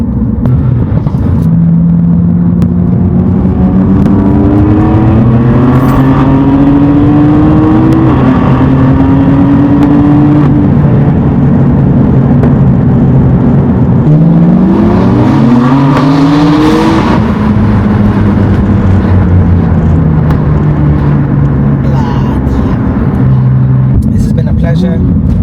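A tuned, stanced BMW M4 F82 drives on the road, its engine loud and close, revving up through gears with rising pitch sweeps, shifting and accelerating hard, with a continuous low rumble.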